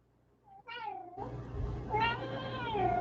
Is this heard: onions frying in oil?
no